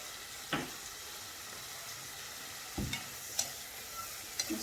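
Seafood tagine sizzling in a pan while being stirred, a soft steady frying hiss with a few brief scraping stir strokes, close but quiet.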